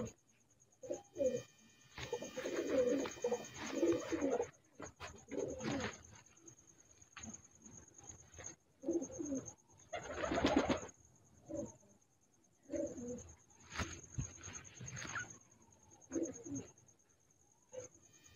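High-flying star pigeons coo softly and repeatedly, low throaty bursts in irregular phrases at close range, with faint chirps and a steady high background whine in a quiet setting.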